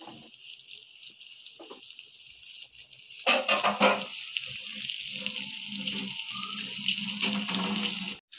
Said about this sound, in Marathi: आपण सगळी पापलेट तव्यावर टाकलेली आहे